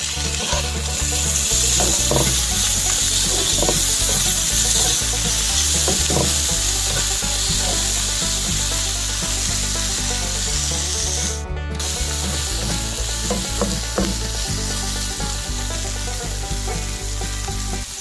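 Green peas and sweet corn stirred in a frying pan for a mung dal bread toast filling, a steady loud sizzle with repeated scraping strokes of a spoon running throughout, no voices.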